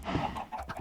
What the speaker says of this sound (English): Why are chickens like this?